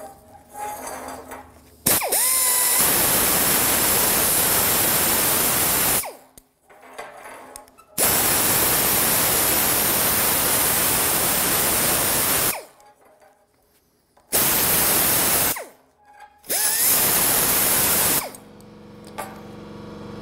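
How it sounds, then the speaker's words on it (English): An air compressor runs loudly in a metal workshop where old rusty metal is being welded and ground, its steady broadband hiss cutting in and out in several long bursts with pauses between. "That's the compressor, just gotta deal with that."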